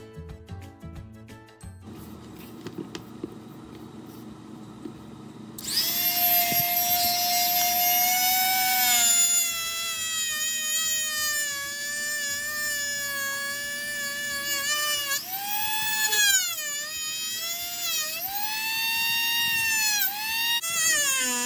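A Dremel rotary tool cuts through scrap wood with a loud, high-pitched whine that starts after a few seconds of quiet, then steadies, dips and wavers in pitch as it bites into the wood.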